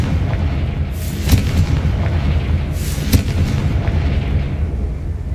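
Two loud fire-spell blasts in Hogwarts Legacy: deep booming bursts about two seconds apart, each with a sharp crack, over a constant low rumble of game ambience.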